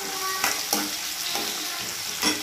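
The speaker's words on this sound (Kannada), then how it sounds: "ಈರುಳ್ಳಿ ಈಗ ಗೋಲ್ಡನ್ ಬ್ರೌನ್ ಬರೋವರೆಗೂ ನಾವು ಬಾಡಿಸ್ಕೋಬೇಕಾಗುತ್ತೆ" Onions, crushed garlic and curry leaves sautéing in a pan, a steady close sizzle punctuated by four distinct spatula scrapes and stirs at uneven intervals.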